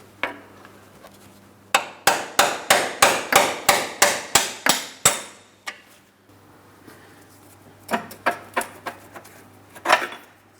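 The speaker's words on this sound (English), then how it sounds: "I'm going to be using a brass punch. We'll tap it through, trying not to cause any damage." Metal hammer strikes on a brass punch driving a bolt out of a 2003-2007 Cadillac CTS front lower control arm: a rapid even run of about a dozen ringing taps, a pause, then several more scattered knocks.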